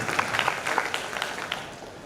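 Brief burst of enthusiastic audience clapping at a kavi sammelan poetry gathering after a song, crisp individual claps in a lively, moderately close crowd.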